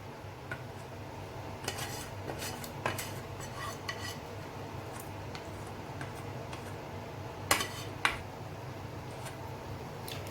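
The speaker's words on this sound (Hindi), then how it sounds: "अब हम इनमें अपनी सॉस मिक्स करते हैं जो हमने रेड सॉस डाली थी।" Red sauce being stirred into pasta in a pan on a stove: intermittent scraping and clinking of a utensil against the pan over a low steady hum, with a few sharper clacks.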